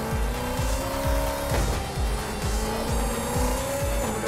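Race car engine in Horizon Chase Turbo, Dominic Toretto's car on a Chile track, a loud buzzing engine with a climbing pitch that drops back at each gear shift, repeating through the whole clip.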